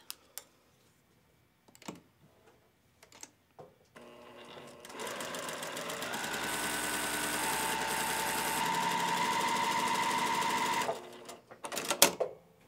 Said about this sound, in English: you want to sew from your tip to your 90-degree point